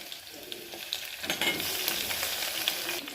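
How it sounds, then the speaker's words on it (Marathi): Onion and garlic sizzle steadily in hot oil in a pan, with stirring scrapes through the frying and no voices. "कांदा भाजला की त्यामध्ये लसण घालायचा लसण घालून छान परतून घ्यायचं"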